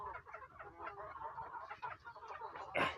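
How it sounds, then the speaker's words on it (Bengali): Chickens kept at a home poultry setting with ducks cluck in a soft, continuous chorus, fairly quiet and near, ending with a sharper louder squawk. "আমি এইভাবে মুরগি পালি"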